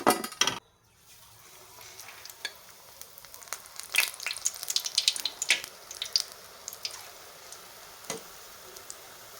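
Mirchi bhaji, chili fritters, sizzle and crackle in hot oil with a steady bubbling hiss and scattered sharp pops, close and fairly quiet after a brief clatter at the start.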